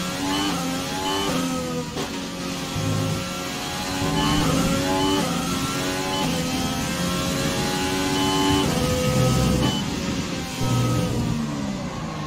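Formula 1 car engine in F1 2020 revving continuously at close range, rising and falling through high-pitched harmonic sweeps as it accelerates and shifts, loud and steady with no voices.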